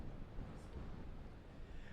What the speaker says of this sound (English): the sustained wind gusts really feel like they're at gale force at this point, Frank